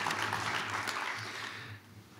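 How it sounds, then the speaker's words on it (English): Applause from a drone conference audience for the panel members, a moderate spread of clapping that thins and fades toward the end. "Another round of applause for our panel members, please."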